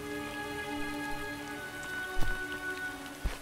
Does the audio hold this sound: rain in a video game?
yes